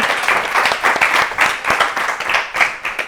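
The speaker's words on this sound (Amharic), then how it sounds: "አጨብጭቡላችሁ ለማረማዊት።" Steady applause from a studio audience of students at a children's TV show, many hands clapping in a dense, continuous patter with small swells, fairly close.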